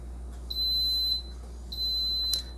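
Two long, steady high-pitched electronic beeps from an electric pressure cooker, each about three-quarters of a second, separated by a short pause, with a brief chirp at the end.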